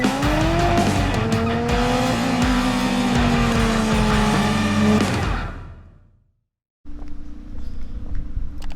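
A car engine rumbles outside a shop, with loud revving and tire noise that rises and falls for about five seconds before fading to silence, then a lower idle rumble returns.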